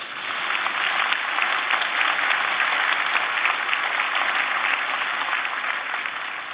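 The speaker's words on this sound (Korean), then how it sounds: "우리 권사님들 위해서 큰 격려 박수 한번 해주세요" Congregation in a church at a dedication service clapping for the deaconesses, a dense, sustained wash of applause filling the room at steady loudness without any speech.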